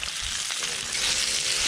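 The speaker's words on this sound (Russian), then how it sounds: "Мы решили ее пожарить еще." Grayling fish frying in a pan on a camp stove during a kayak trip on Lake Lovozero on the Kola Peninsula; a close, steady sizzle and crackle of oil continues throughout, with no talking.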